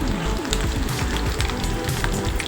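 Chicken pakodi deep-frying in oil gives a loud, steady, close sizzle packed with dense crackles and pops throughout, with no voices.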